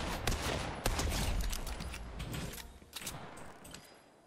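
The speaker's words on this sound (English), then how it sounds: "Yeah, grenade launcher" Rapid, dense gunfire and explosive bursts from a video game shootout with a grenade launcher, a continuous crackling barrage at moderate level with sharp individual blasts standing out.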